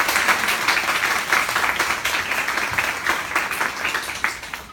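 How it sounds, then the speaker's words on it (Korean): An audience in a lecture hall bursts into sustained applause for a professor, many hands clapping loudly and evenly for the whole stretch with no voices over it. "박수 쳐주세요"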